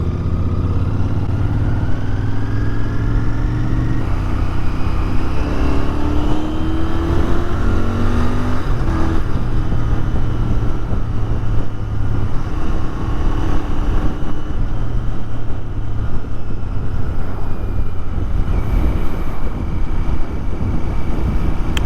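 Steady, loud rumble of road traffic and engine drone, continuous throughout, with shifting tones as vehicles move past nearby.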